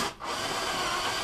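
A power drill bores into material while a dummy load for a LiPo charger is being built. It gives a short, steady whirring grind that dips for a moment near the start and then holds constant, close up, with no talk.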